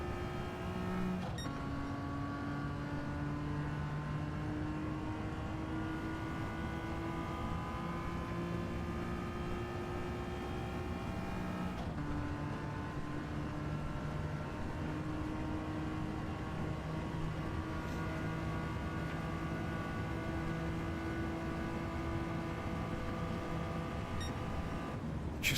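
A race car engine in a video game drones steadily at high revs, its tone climbing and shifting with gear changes, a continuous loud whine with no talk over it.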